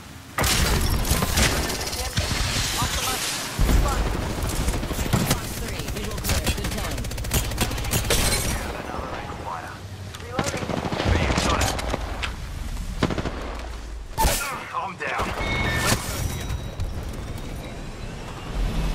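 Gunfire in the video game Apex Legends: dense, repeated shots and impacts in a chaotic fight, with game voices and effects in the mix and a few brief lulls.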